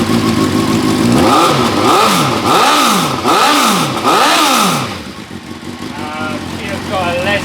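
A fuel-injected 1998–99 Suzuki GSX-R750 SRAD sport bike with an aftermarket exhaust revs hard up close, four sharp rising-and-falling throttle blips in a row, then drops back to a lumpy idle.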